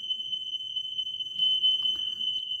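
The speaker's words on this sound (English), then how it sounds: "I've set the fire alarm off" Fire alarm going off inside a church, a steady high-pitched electronic tone held continuously, moderately loud over faint room noise and shuffling.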